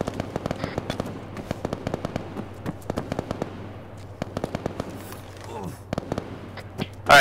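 Gunfire cracks out in quick irregular bursts as lights are shot out at night in the video game ArmA 3, sharp reports at moderate distance with brief pauses between volleys.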